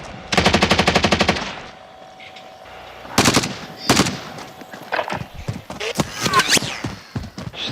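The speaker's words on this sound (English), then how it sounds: "They're definitely shooting at me." A loud, fast burst of video game machine gun fire opens the passage, followed by scattered heavier shots and impacts in a combat scene, with voices talking in between.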